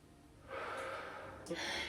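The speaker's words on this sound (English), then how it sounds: "A big inhale." Someone takes a big, slow inhale during a yoga session, a soft airy breath that swells and then carries on with a brief sniff near the end.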